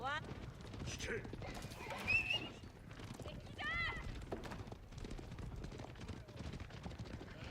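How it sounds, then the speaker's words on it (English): Horse hooves clip-clop and a horse neighs amid battle in the real-time strategy game Age of Empires 4 with Mongol cavalry, busy galloping and whinnies mixed with scattered game effects. "Hate Mongols and their horses."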